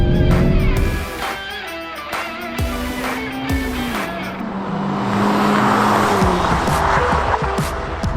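A 181-horsepower Toyota GR86 or Mazda Miata sports car slides sideways over a hill, with tire squeal and a revving engine that rises and falls, loud and close, followed by a sustained roar as the car accelerates away.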